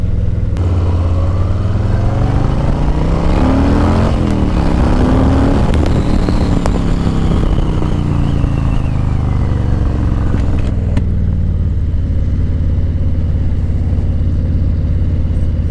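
A 2020 Harley-Davidson Low Rider S cruiser rides along, its engine droning loud and close with a rising rev and gear changes over steady wind and road noise, then settling to a lower rumble.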